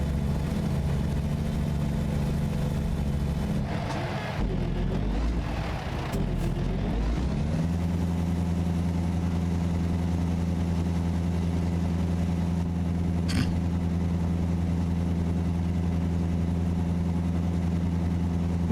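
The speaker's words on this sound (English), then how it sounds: "the engine's really struggling" A heavy truck's diesel engine labours up a hill in American Truck Simulator, a loud steady low drone that shifts and sputters early, then settles into a constant strained rumble with a brief hiss near the end.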